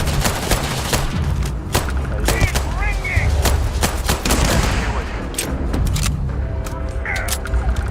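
Rapid gunfire in Starfield, with dense repeated shots and bursts close and loud throughout, some heavier booms mixed in, while someone talks over the shooting.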